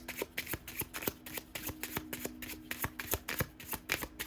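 Small handmade cards are shuffled up close, a quick run of crisp flicking riffles and taps in steady rhythm, with no voice.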